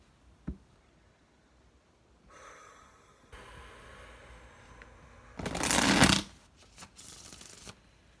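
Tarot cards being shuffled by hand in a quiet room, heard as soft riffling bursts that build to one loud, dense shuffle near the middle, followed by a few shorter flicks.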